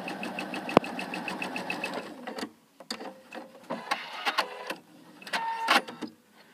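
A sewing machine stitches quilt binding along a corner, rattling rapidly and steadily for about two seconds, then continuing in shorter stop-start bursts nearby, fairly quiet and without speech.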